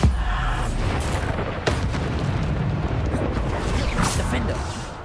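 Bombarda spell blast in the Hogwarts Legacy video game, a loud rumbling explosion with burst pops over dense game effects, continuous and near.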